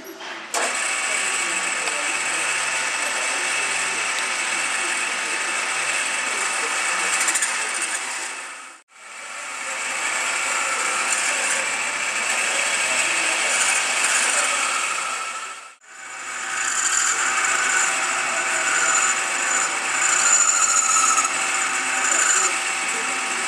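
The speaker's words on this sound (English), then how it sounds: "He's actually machining the housing here" Machine tooling cuts the aluminium housing of a 70–120 mm EDF jet fan, a steady loud whir that stops briefly twice and starts again, running without pause for most of its length.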